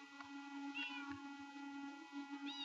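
A cat meows two or three times in rising, wavering cries over a steady low hum, fairly close and clear.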